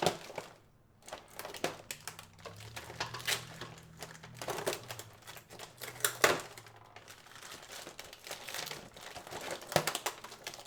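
Crinkling and crackling plastic packaging as a Transformers Beast Wars Masterpiece MP-41 Dinobot figure is pulled from its plastic case, with close, irregular bursts of rustles and snaps.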